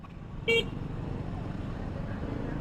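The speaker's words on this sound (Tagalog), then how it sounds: "Grabe, traffic." Single short car horn toot cuts through steady low road traffic rumble on a city street, heard from a motorcycle, with faint background noise continuing after.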